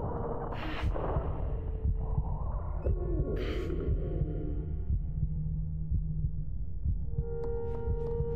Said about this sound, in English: Why do we hear like a heartbeat?